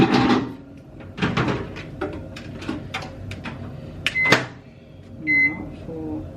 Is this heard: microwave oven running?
yes